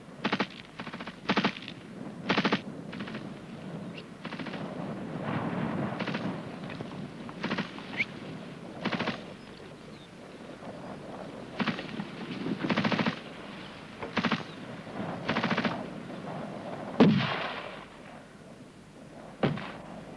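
GPMG machine gun and rifle fire during a British Army section attack drill, distant bursts and single shots cracking irregularly across the whole stretch, echoing over open ground with no talk.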